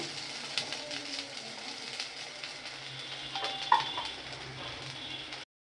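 Chopped garlic and onion sizzle in hot mustard oil for a kachki fish chorchori, a steady, dense crackle with a few soft clinks of a utensil against the pan.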